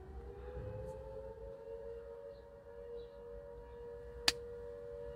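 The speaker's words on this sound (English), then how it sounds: "smoko siren, which is basically morning tea siren for someone" A steady, sustained smoko (morning tea break) siren drones at a distance, holding a flat pitch with faint background noise and one brief sharp click near the end.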